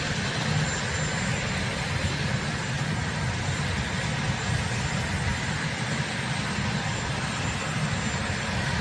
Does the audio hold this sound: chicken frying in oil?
no